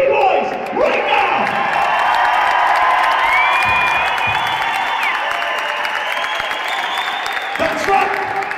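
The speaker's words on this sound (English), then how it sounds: "Give some applause for these two B-boys!" A large indoor crowd at the Red Bull BC One Cypher breakdancing championship final in Belfast applauds, cheers and whoops loudly and steadily for two B-boys, with a dense, continuous roar of clapping.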